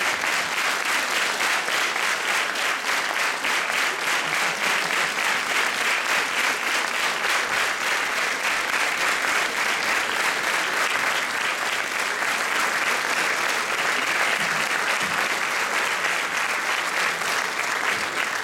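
Sustained audience applause fills a school farewell event in a theatre, a thick, even wash of many hands clapping at full volume for the entire stretch, uninterrupted by voices.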